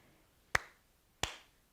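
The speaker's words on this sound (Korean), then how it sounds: "이응이 나오면 읽지 않고 박수를 치겠습니다" Two sharp, isolated hand claps about two-thirds of a second apart, close and clear in a quiet room, used in a Korean alphabet lesson in place of reading the silent consonant ieung.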